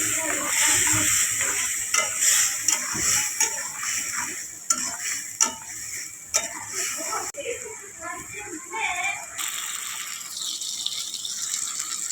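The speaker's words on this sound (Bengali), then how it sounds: "জল দিয়ে ভালো করে কষে নেব" Fish curry masala for a thin desi boal fish broth sizzles and is stirred in a pan, with scraping strokes and wet frying that quiets toward the end, while a voice talks over it.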